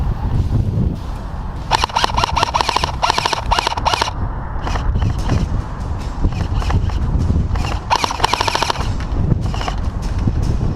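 Airsoft rifles such as an M4A1 and G36C fire during an outdoor skirmish in Milton Keynes: two long bursts of rapid, sharp clicking snaps, with scattered single shots between them, all loud and close.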